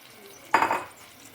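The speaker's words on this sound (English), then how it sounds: "So now I'm pouring the seasoned meat," Seasoned beef is poured into a hot pan to fry for a Spanish beef stew, a single sudden sizzling splash that fades over about half a second, with no talk.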